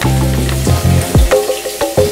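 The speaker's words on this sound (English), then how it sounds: "We're gonna lay our scallops right in the oil, and you should hear that sizzle." Scallops laid into hot oil in a pan sear with a close, steady sizzle that crackles and hisses across the short stretch, rising in bursts as they settle.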